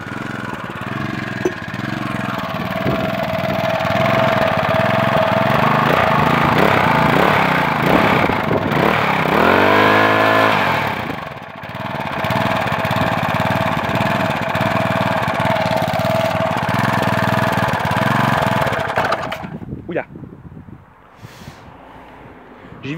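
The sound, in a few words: small petrol engine running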